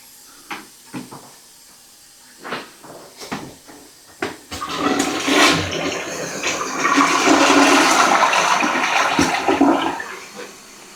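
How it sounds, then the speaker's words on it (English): A household toilet gets its final flush with the handle held down. A few clicks and clunks come first, then a loud rushing swirl of water that roars for several seconds and dies away, close up with no voices. "Show you guys the final flush."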